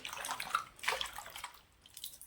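Washing water being drained off sliced potatoes, with a few quiet splashes and trickles in short bursts, close and soft.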